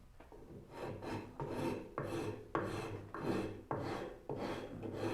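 Rasping a wooden curve on a Moxon vise leg, a close, coarse scraping of about seven even, rhythmic strokes, each a rough swell separated by brief gaps.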